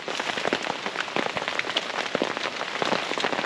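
Steady rain patters on a campsite in a wilderness area, a dense continuous hiss of drops with sharper close taps scattered throughout, fairly loud and with no voices.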